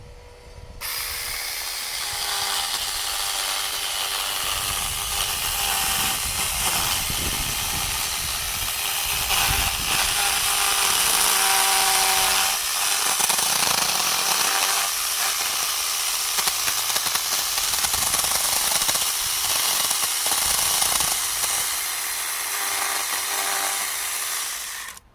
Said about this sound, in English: The next stage is just using the mini chainsaw to just refine the inside of the sort of hollowed out trunk.